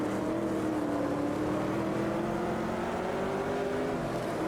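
Racing car engine in the Automobilista 2 sim racing game: a continuous droning engine note holding a steady pitch with slight rises and dips, moderately loud, with no voices.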